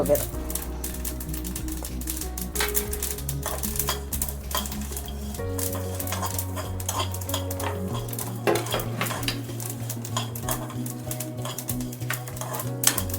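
Spices and a bay leaf fry in a pan for a stuffed brinjal masala curry, giving a steady sizzle with occasional clinks and stirring scrapes.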